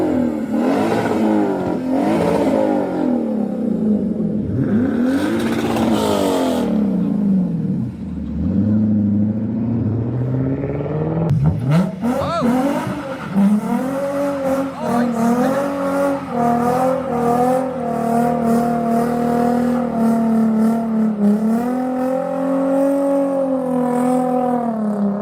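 Car engines at a car meet rev hard and loud in a car park, rising and falling in sweeping pitch with sharp throttle blips and crackles, close and continuous.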